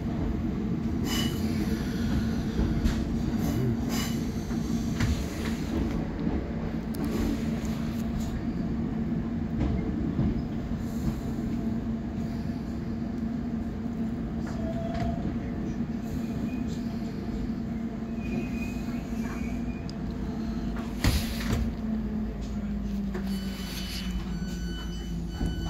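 A Southern passenger train rumbles steadily along the track toward Coulsdon South, heard from inside a carriage, with a constant low roar, faint rattles and an occasional brief squeal.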